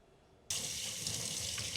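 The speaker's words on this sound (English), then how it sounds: "let's go over and wash our hands" A sink tap suddenly opens and water gushes steadily into a kitchen basin for hand washing, close and even after the abrupt start, alone with no voices.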